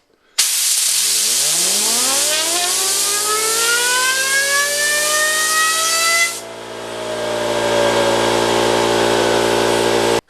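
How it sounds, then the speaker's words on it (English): An air compressor's jet spins up a fidget spinner, a rising whine climbing steadily in pitch over a steady hiss of rushing air, then the whine levels off into a sustained high tone; loud and continuous, no voices. "And then of course there is the compressor."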